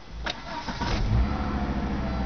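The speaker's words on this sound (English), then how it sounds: "the engine turns right over and starts." A Volvo 850 engine with a weak, low-voltage battery cranks briefly on a cold 32-degree day, then catches and settles into a steady idle, close and fairly loud.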